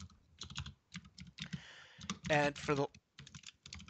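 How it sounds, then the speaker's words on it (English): Loud keystrokes clatter on a computer keyboard in short irregular bursts, close, with someone talking briefly over the typing partway through. "Someone's typing very loudly."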